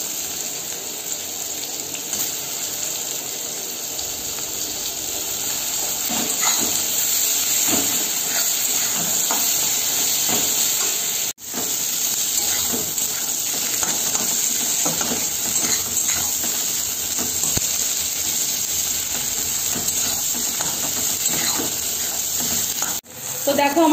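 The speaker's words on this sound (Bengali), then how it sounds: "এবার এর ভেতরে আমি দিয়ে দেব পেঁয়াজ কুচানো।" Chopped onions fry in hot oil for a Bengali-style prawn malai curry, giving a steady close sizzle and hiss with occasional stirring scrapes throughout.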